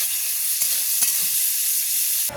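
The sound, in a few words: frying bitter gourd for shukto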